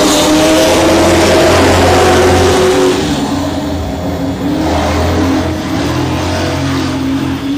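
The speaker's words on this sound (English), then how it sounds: "Here we go, green flag racing." Race cars at I-37 Speedway in Texas take the green flag start, running two by two into the turn. Their engines blend into a loud, continuous roar that swells and dips slightly as the pack accelerates.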